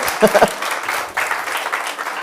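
Children clapping at a children's seminar, a short burst of applause under a brief spoken voice, fading into room noise.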